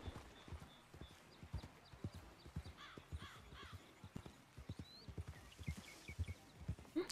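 A horse in the Western video game Red Dead (RedM) clip-clops over ground in an uneven run of hoofbeats, with short whinny-like calls in the middle and toward the end, fairly quiet overall.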